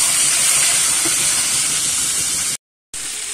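Chopped tomatoes hit hot oil in a pan for a Bengali aloo fulkopi dish, giving a steady, bright hiss of frying close by, broken by a brief moment of silence.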